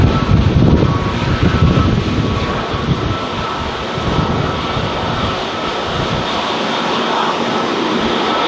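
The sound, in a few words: China Southern airliner at Auckland Airport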